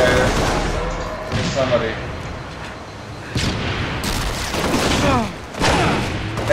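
Explosions and rocket fire booming in Halo Reach amid scattered gunfire, several heavy blasts at uneven intervals, with players talking over the action.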